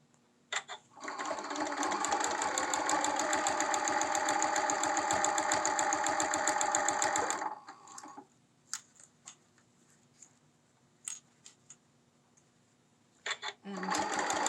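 A serger sewing machine stitches a zipper pouch seam in a rapid, steady mechanical whir for about seven seconds, then stops, followed by scattered small clicks and handling noises up close.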